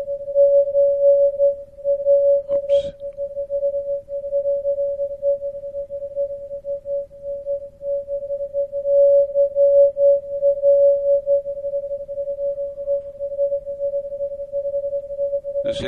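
A non-directional beacon's Morse identifier comes through a radio receiver as a steady pure tone, close and clear above a faint hiss, with brief clicks now and then.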